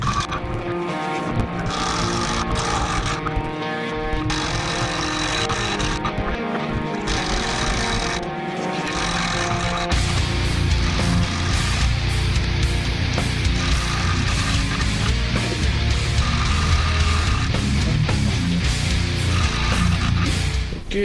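An angle grinder with a flap wheel and cutting discs works on steel motor mount tabs for a 2JZ engine swap into a Datsun 240Z, a loud, continuous rough whine that grows denser and harsher midway through.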